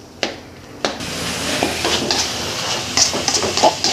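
Tofu and sliced sausage stirred in a pan, with a steady close sizzle and hiss and a few sharp spatula clinks against the pan.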